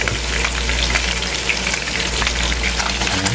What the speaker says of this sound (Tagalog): Dito ko na rin piprituhin ang sibuyas mga kajuit.